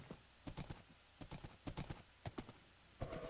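Horse hooves clip-clop in irregular bursts of quick steps as a horse is ridden in Minecraft, the hoofbeats soft and fairly close, with a brief whinny-like sound near the end.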